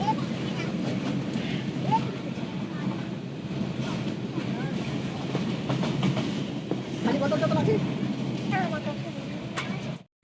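Train running at speed heard from inside a carriage, a continuous low rumble and rattling with faint clicks, steady and close, with occasional voices underneath.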